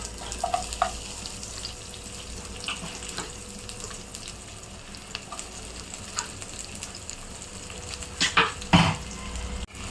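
Thinly sliced onions dropped into a hot kadai for egg thokku, frying with a low steady sizzle, plus a few clinks and stirring scrapes that swell near the end.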